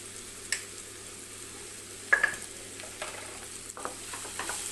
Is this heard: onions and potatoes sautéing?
yes